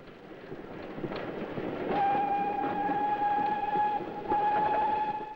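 Steam locomotive Charwelton arriving at Northiam station on a heritage line between Kent and Sussex, with a rumbling approach that grows louder, then a sustained steady whistle tone holding near and loud to the end.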